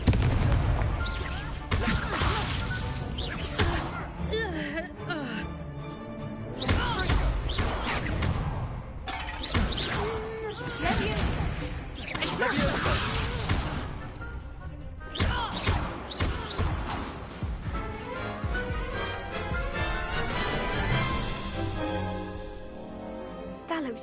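Confringo blast spells detonating in Hogwarts Legacy, dense booming and crackling explosions firing repeatedly across the whole stretch, loud and close, with game music and effects layered underneath.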